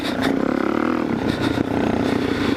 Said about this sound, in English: if you just like to hear the grunt of a big old bored and stroked dual sport bike